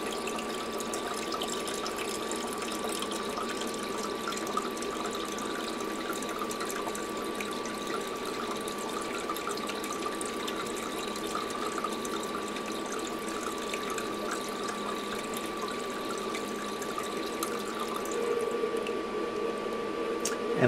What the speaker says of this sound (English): now it's going to fill with water once again and actually overflow a little bit until it's satisfied that the bucket is full